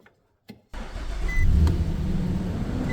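A 2011 Nissan Frontier engine cranks briefly and catches, then settles into a steady, fairly loud idle rumble up close, after a short quiet start with a faint click.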